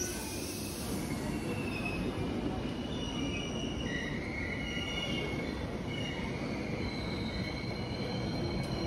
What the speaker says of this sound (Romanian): Și sosește și trenul nostru Regiojet 1035, este tractat de locomotivă Siemens Vectro.